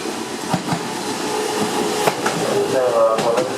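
A Meitetsu out-of-service train rolls into the platform at Inuyama Station with a steady loud rumble, rhythmic wheel clacks over rail joints and a faint squeal near the end, while a station announcement plays over it.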